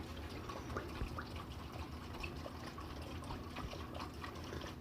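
Alcohol fuel poured into a homemade indoor fireplace burner, a steady soft trickle of liquid running continuously at low level without a break.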